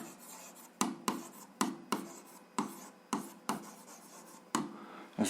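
A pen scratches quickly over paper while an algebra equation is written by hand: eight or so crisp, close strokes in an even rhythm, with nothing else around them.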